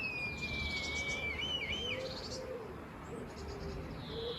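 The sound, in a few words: crow or blackbird calling from a branch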